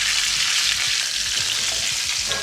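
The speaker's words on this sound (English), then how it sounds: "You can also take this fat right on top, and it's like that sizzling effect." Pastured pork loin searing in hot oil in a pan, a loud dense steady sizzle and crackle heard close up, with no talking.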